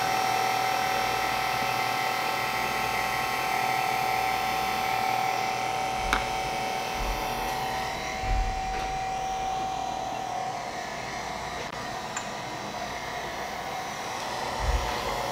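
A stand mixer runs at low speed mixing cake batter, a constant close motor whine and hum with occasional soft bumps and knocks from the bowl.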